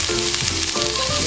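Chopped onion sizzles and fries steadily in a spoonful of hot oil in a pan for a Malvani red chickpea curry, a close, continuous crackle with no voices.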